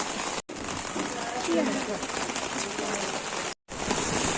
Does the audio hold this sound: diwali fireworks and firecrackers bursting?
no